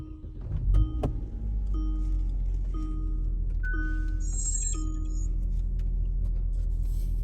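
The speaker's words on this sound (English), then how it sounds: "I'm gonna turn on the car" A click, then a car engine catches and settles into a steady low idle while dashboard chimes ping at intervals.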